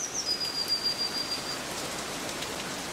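Steady rain falls over a flooded Norfolk fen with reeds beside a river, a continuous dense patter at an even level, with a faint bird call at the start.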